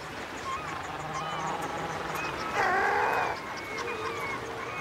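Sea lions calling on a breeding beach in Patagonia at the southern tip of South America, a steady chorus of honking, bellowing calls with one louder, nearer burst standing out midway through.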